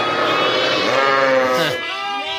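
Kangal Akkaraman sheep, ewes with twin lambs, bleat loudly and close in a long wavering cry that breaks into a shorter second call.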